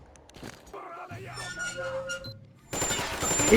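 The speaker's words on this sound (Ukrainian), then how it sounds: "Чого вони почали по мені стріляти?" Gunfire in the shooter Metro Exodus, a burst of rapid shots that starts loud near the end after a stretch of game sounds and voices, with talk over the noise.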